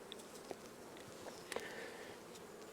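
Honeybees crawl and buzz on a hive frame during a late-summer inspection, a faint, steady insect hum with a few soft ticks and brief louder buzzes of bees flying close past.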